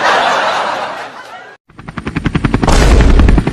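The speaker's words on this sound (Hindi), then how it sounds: "मेरा हेलीकॉप्टर कैसे चालू हो गया?" Helicopter starting up, a steady whoosh that cuts out, then rapid rotor thumps building into a loud, fast chop.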